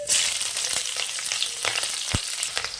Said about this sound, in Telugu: ఇప్పుడు ఇందులోకి పచ్చిమిర్చిని వేసుకుందాం